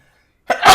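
A single sharp sneeze bursts out after a stretch of silence, loud and close, a quick inhale-like onset followed by a broad explosive blast.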